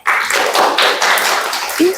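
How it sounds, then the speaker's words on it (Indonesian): A class clapping for a student group in a ninth-grade science lesson, a short, loud burst of hand claps close by, with a brief voice near the end. "Oke, terima kasih kepada kelompok 1. Beri tepuk tangan ya."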